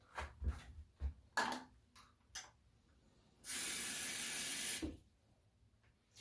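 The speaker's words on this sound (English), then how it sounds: "I'm just going to slowly add this water because the water is getting everywhere" Water poured into a small container for a glycerin hair mix, a bright hissing splash lasting just over a second after a few soft taps and clicks, close and fairly quiet.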